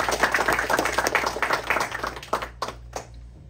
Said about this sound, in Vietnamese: Xin quý vị cho một tràng pháo tay nồng nhiệt để tiến tới phía trước